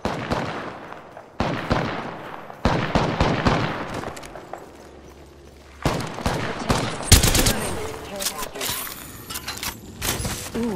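Rapid bursts of gunfire in the Apex Legends battle royale, loud and close, with repeated volleys and sharp cracks layered over a busy mix of combat noise across the whole stretch.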